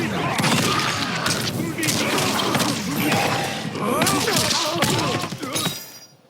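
Quan Chi's combo strikes land in Mortal Kombat 1, a dense barrage of loud thuds, cracks and magical bursts hitting in rapid succession, continuous for several seconds before cutting off.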